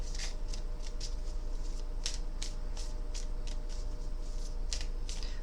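Tarot cards are shuffled up close, with quick papery flicks and riffles in irregular bursts over a faint steady hum. No one speaks.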